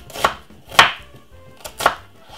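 Three crisp knife chops through a piece of white onion on a board, each a sharp close thud spaced about half a second apart, with no talking.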